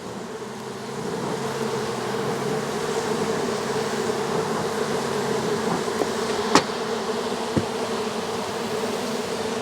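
Honeybees swarm around crowded hives in late May, close to swarming, making a dense, steady buzz that fills the whole stretch. A couple of faint clicks sound near the end, and no one speaks.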